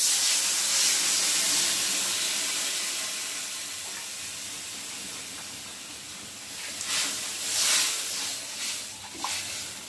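Water poured into a hot pan while cooking fish curry gives a steady broadband hiss of steam, fading slightly midway and then flaring in a few brief sputtering bursts near the end, close and fairly loud with no talk.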